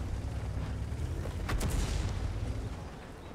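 Tank cannon fire in World of Tanks during an encounter battle, with a loud booming shot around the middle over a steady low rumble of battle ambience.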